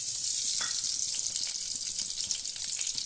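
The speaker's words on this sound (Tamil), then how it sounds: "அது கொஞ்சம் எண்ணெய் ஊற்றிட்டு நம்ம கொஞ்சம் கடுகு போட்டுக்குவோம்" Mustard seeds frying in hot oil give a constant bright sizzle with light crackles and pops, close and steady throughout, no one speaking.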